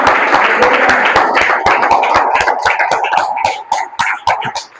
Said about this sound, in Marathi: येशूसाठी आपण जोरदार टाळ्या वाजवू